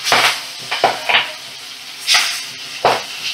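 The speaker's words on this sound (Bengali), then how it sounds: "মিডিয়াম ফ্লেমে রেখে মাছগুলো ভাজা করে নিচ্ছি" Magur catfish frying in oil over a medium flame, with bursts of loud sizzling and sharp spattering pops that come and go, plus a few utensil clinks and no talk.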